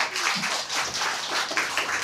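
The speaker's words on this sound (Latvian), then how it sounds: "Lūdzu, aplausus." An indoor audience at a skeptics' café talk event claps steadily, a dense, even wash of applause close by with no voices over it.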